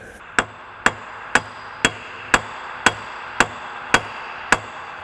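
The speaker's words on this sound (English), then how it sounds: "So yes, I'm going to try and tap it together." Hammer tapping front wheel hub and bearing parts together on a 2005 Toyota 4Runner: nine sharp metallic strikes at an even, unhurried pace, close and clear with no talk.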